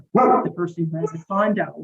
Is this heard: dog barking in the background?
yes